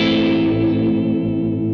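A sustained electric guitar note swells with dense reverb and distortion, then its tail is abruptly chopped off by a noise gate at the very end.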